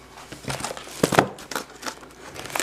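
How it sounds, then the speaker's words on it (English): Plastic packaging of Duracell LED under-cabinet lights crinkles and crackles as scissors cut through it, a few close, moderately loud bursts of rustling with no talk. "I have scissors here, and I don't have a knife here, but let's see if I could just cut through."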